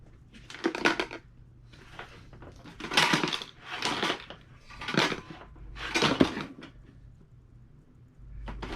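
A plastic toy is shaken so loose screws rattle inside, giving five or six bursts of clattery metallic rattling, close and fairly quiet, with short pauses between the shakes.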